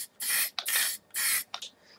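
Aerosol spray can laying a flat black coat on a tabletop wargaming model, two long close hissing bursts with brief rattly sputters between them.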